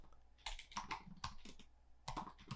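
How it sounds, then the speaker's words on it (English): Keys on a computer keyboard tap in quick, uneven bursts of clicks, close but quiet, with short pauses between runs of typing. "So I'm going to type it here"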